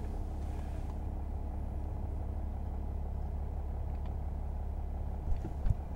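A 2009 Mercedes E320 Bluetec with a boost problem is in drive, a steady low engine and road rumble droning throughout, with a couple of faint brief knocks near the end.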